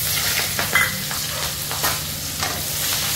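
Onion and chilli sizzle steadily in hot oil while being stirred, with a continuous close hiss broken by brief spatula scrapes and pops.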